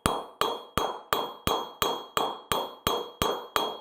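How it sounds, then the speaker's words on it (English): A hammer forging a silver ingot to widen it, eleven evenly spaced sharp metallic strikes with short ringing decays, close and clear with no talking. "the reason that I am forging it this way is because I want to widen this ingot out"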